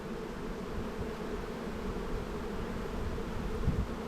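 A dense, continuous buzzing of many bees swarming close by around an open hive, steady and uninterrupted throughout.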